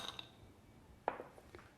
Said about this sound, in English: place all the ice in this bowl